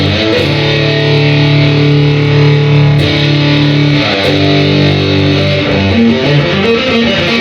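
Electric guitar played on the bridge pickup through a distortion pedal, loud and saturated with sustained chords and ringing notes, then a shift to a busier run of picked notes near the end, with no voices.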